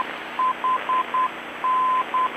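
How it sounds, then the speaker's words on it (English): Morse code identifier of an aircraft localizer frequency on a G1000 avionics radio: a clear steady tone keyed in short and long beeps over a faint background hiss, with no talk. "Right now we're listening to the Morse code identifying our localizer frequency."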